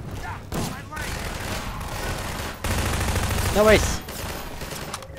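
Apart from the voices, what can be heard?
gunfire in the video game Half-Life 2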